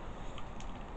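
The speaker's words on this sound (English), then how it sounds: "Wish I knew who was honking their horn." A car horn honks somewhere outside during Hurricane Irma in Lake Wales, faint and distant beneath a steady roar of wind.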